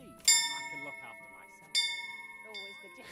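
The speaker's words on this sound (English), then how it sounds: "Let's just ring this bell here." A bell rung in the medieval role-playing game Kingdom Come: Deliverance gives two clear, close strikes about a second and a half apart, each leaving a bright, shimmering ring that slowly fades.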